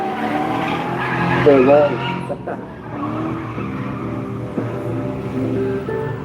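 A V8-swapped Nissan S13 drift car on fresh tyres at Oakburn Park in New South Wales, squealing and skidding through a run, with the engine surprisingly quiet and a commentator talking over the sound.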